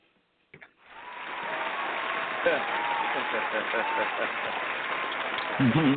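Applause on a radio talk show, a continuous wash of clapping that rises suddenly after a moment of quiet and holds steady, with a brief voice near the end.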